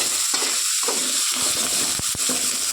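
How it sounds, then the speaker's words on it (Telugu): Tomato and curry leaves frying in a pan for a banana curry: a steady, close, loud sizzle with crackling bursts and a few sharp spatters and utensil knocks. "ఇందులోనే కట్ చేసి వచ్చిన టమోటా కరివేపాకు వేసేస్తున్నాను"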